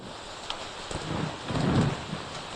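Steady rain pours down in a continuous wash of hiss and patter, with a soft low rumble swelling toward the end and no voices present.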